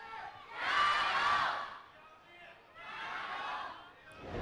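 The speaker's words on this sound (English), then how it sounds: "There was actually some BLG chants in the crowd." Crowd at an LPL Spring 2018 esports match between Bilibili Gaming and Team WE, with two loud swells of chanting and cheering from a large audience separated by a brief lull.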